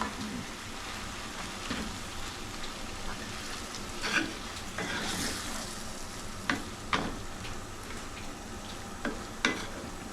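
Canned beans get stirred in a small skillet, with a soft continuous sizzle broken by several sharp spoon scrapes and clacks against the pan, heard close up without speech.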